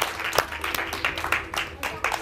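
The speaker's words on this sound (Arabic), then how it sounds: "إذن تصفيقة تصفيقة على عمو رضا لاعب الخفة" An audience claps to welcome Amou Reda, a sleight-of-hand magician on a children's show, with a short burst of scattered, close-sounding claps mixed with background voices.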